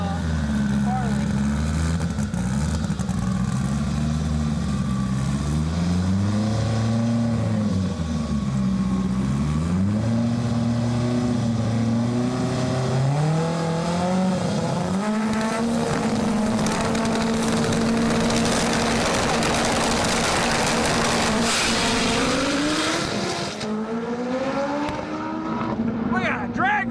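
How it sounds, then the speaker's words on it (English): Drag race cars accelerate at a speed event, engines roaring loudly and continuously as rising and falling revs sweep upward through gear changes, the sound staying strong until it cuts off near the end. "We got a drag race, folks!"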